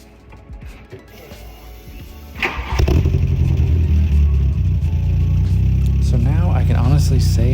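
An MK1 Rabbit GTI engine with an upgraded exhaust cranks and fires, then settles into a deep, loud, rumbling idle with a raspy edge, close by. Brief talk overlaps near the end.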